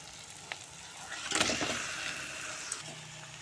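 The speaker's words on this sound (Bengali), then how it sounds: "চিকেন দিয়ে এখন ভালো করে মশলার সঙ্গে কষিয়ে নেব।" Chicken pieces sizzling with masala in a pan for chicken kosha, a soft steady frying hiss with a louder burst of sizzle and stirring in the middle, no voices.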